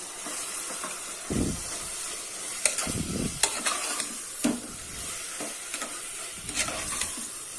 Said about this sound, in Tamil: நான் மூணு தக்காளி கட் பண்ணி வச்சுருக்கேன் அதை போட்டு வதக்கலாம்